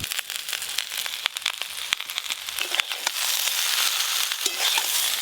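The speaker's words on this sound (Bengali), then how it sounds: "একেবারে সবজির সঙ্গে দিয়ে পনির আর সবজি আর একটু ভালো করে ভেজে নেব।" Paneer and mixed vegetables fry together in a pan, the sizzle broken by sharp crackles and pops, then settling into a denser, steady hiss, close up and without speech.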